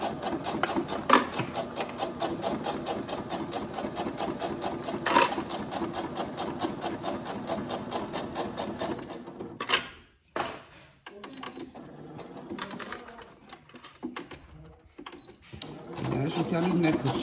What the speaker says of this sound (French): on termine ma couture